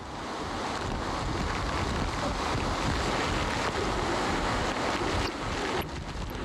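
Storm surf surges during Hurricane Katrina as waves wash over an access road and winds gust above 60 miles an hour, a loud continuous roar of water and wind noise with no talking.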